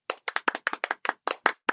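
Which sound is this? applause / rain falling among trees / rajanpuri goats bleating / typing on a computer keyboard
applause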